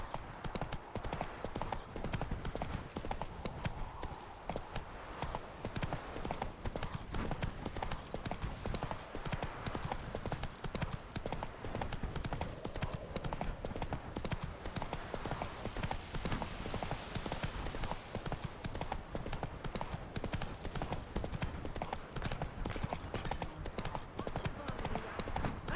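A horse galloping in The Witcher 3, a steady rapid clip-clop of hooves running for the whole stretch at moderate loudness, with a soft background hiss and occasional voices.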